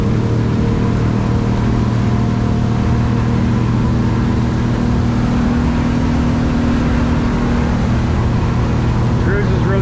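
A motorboat engine drones steady and loud while cruising on the North River at about 23 miles an hour. Its hum is even, with wind and water noise mixed in.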